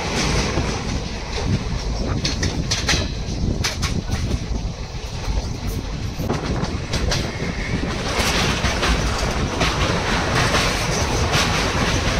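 Amravati Pune Express passenger train running from Dharashiv to Pune, heard from on board as a continuous loud rumble with rhythmic wheel clatter over rail joints and occasional brief clanks.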